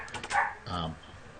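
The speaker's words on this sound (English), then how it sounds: "I got very loud dogs." A dog barks several quick times, close and fairly loud, followed by a voiced yelp or whine, over a low background hum.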